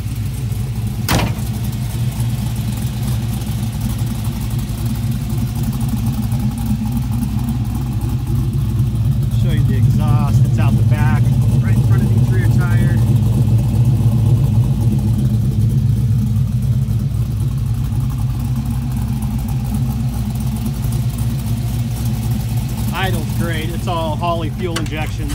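A fuel-injected 1969 Chevrolet Chevelle Convertible engine idles steadily nearby, a low even rumble throughout, while people talk briefly over it in a couple of spots.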